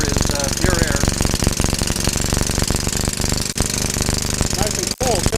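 A hydrogen-fueled engine revs hard and steadily, giving a loud, dense, rapid hammering roar that barely drops for a moment midway and again near the end.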